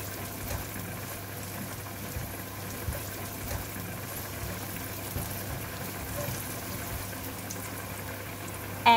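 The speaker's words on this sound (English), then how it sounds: "Heat the pan, add in 2 tablespoons of cooking oil, Add in chopped garlic and stir for about 40 seconds" Chopped garlic sizzling in hot cooking oil in a pan while being stirred, a steady soft frying crackle and hiss throughout, with a faint clink at the end and no talking.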